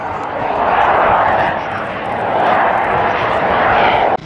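An aircraft roars past during an air show display at the Czech International Air Fest, a loud continuous engine rush that swells and eases, with a commentator speaking over it.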